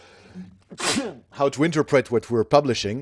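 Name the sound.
sneeze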